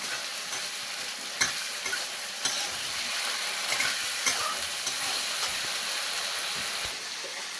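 Chopped tomato, ginger, green chili and cumin sizzle softly in oil for a cabbage dish, a steady moderate hiss with scattered clicks and taps from stirring in the pan.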